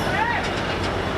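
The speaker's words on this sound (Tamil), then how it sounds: "Mumbai Jaipur super fast." Mumbai–Jaipur superfast train running on rails, a steady broadband rumble with faint rhythmic clatter, heard briefly and close.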